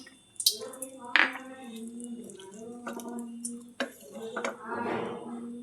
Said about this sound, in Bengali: ঢাকা দিয়ে দেবো, তেঁতুলটা সেদ্ধ হবে।